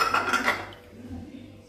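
Glass plates clink and clatter against each other while being washed, a few quick bright knocks at first, then softer handling noise fading into quiet.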